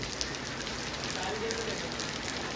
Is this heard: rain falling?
yes